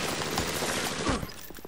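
A short, fast rattle of automatic gunfire in BioShock fills the moment, loud and continuous before tapering off slightly at the end.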